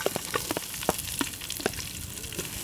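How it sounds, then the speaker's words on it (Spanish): Green beans, onion and green chile sauté in a little oil, giving a steady close sizzle dotted with soft stirring clicks and pops, no voices over it. "Y ahí se va a comenzar a sofreír el ejote"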